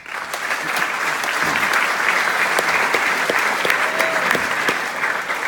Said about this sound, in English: Please welcome my co-chairman of the festival, Randy Mastro